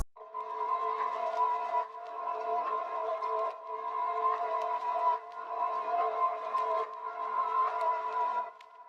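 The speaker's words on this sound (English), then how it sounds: "Next sound we have is this reverse bell that sounds like this." A reverse bell synth in FL Studio swells and rises repeatedly in soft washes, each phrase building and cutting off, with a shimmering bell-like texture and no voices.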